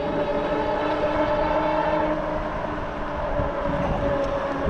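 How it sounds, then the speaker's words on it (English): A RadRunner e-bike from Rad Power Bikes pulls hard in pedal assist level 4, its hub motor giving a steady, loud whine over constant wind and road rumble. "I don't know if you can hear it, but pedal assist 4 just takes off"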